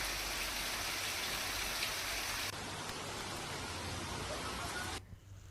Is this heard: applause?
no